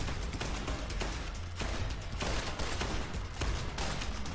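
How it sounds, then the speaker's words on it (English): Rapid gunfire from a 10mm pistol in the video game Fallout: New Vegas, a dense run of sharp shots overlapping with other combat fire in a steady, loud barrage with no talking. "The recoil on this 10mm pistol isn't too good."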